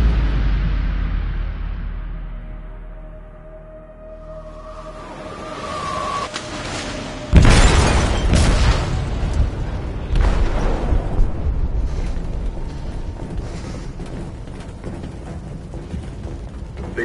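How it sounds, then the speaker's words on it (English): An explosive detonates in a ship's hold in Detroit: Become Human, a sudden heavy boom breaking over a low mechanical rumble and leaving a long, roaring, crackling wash that fades slowly. "They detonated an explosive in the hold."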